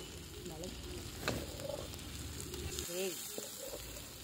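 Ginger garlic paste and pepper paste sauté in a pan, giving a close, steady sizzle with light stirring scrapes, while a voice talks over it.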